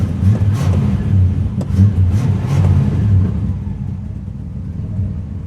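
A car engine idles with a deep rumble and gets a few rising revs from the gas pedal, loud and close, then settles back to a steady hum.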